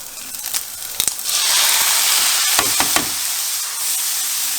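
Tomatoes added to a pan of sautéed meat and peppers, with a few sharp clanks at first and then a loud, continuous sizzle and hiss that carries on steadily to the end.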